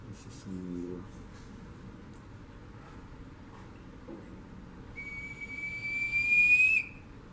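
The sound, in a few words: pre-Columbian whistling bottle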